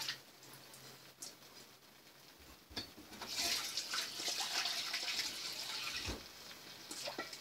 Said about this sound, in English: I personally rinse my shrimp off one more time, just for good measure.